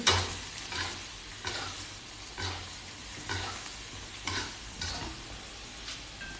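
A spoon stirs Thai eggplant curry (kaeng ho) in a pot, with rhythmic scraping strokes roughly every second over a soft, steady simmering sizzle; no one speaks.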